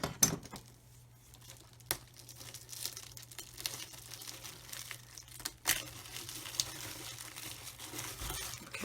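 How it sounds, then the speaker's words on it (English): Sellotape being cut away and a plastic-wrapped sprue for a 1/72 Modelsvit An-124 kit being handled, close quiet crinkling and rustling of plastic with a few sharp clicks and taps, no voices. "So it's got some sellotape on it there by the look of things. So just cut that away."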